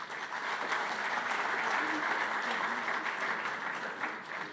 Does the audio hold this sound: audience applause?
yes